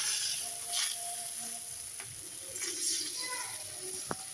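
Chapati batter sizzles and fries in oil in a pan, a steady soft hiss with light crackles and a brief sharp tick near the end, close and fairly quiet throughout.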